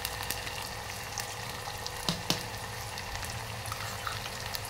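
Onion, ginger and garlic paste sizzles in warm oil in a pan, a steady dense frying hiss with a couple of faint clinks, constant and close with no voice.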